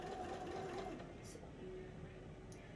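A sewing machine stitches a seam on a red floral knit dress, a quiet steady mechanical whir with faint brief clicks, fairly soft and close.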